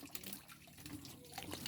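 Water runs and trickles with a steady, fairly faint wet flow and small splashes, as from a tap or hose, near a tilapia setup.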